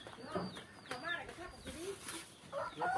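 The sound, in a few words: chickens clucking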